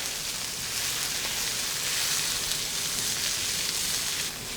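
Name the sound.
cumin frying with garlic and onion in a pan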